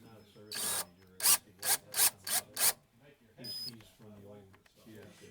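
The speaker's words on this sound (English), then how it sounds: "Now this is a famous drill." A power drill gives several short, sharp whirring bursts in quick succession, drilling a clutch slave cylinder weep hole on a BMW K1200LT motorcycle, close by, with people talking before and after.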